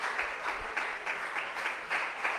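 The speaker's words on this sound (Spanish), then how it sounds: "Denle un aplauso al Señor." A church congregation at a Sunday service claps together in a steady, rhythmic beat, the claps landing in even pulses close by.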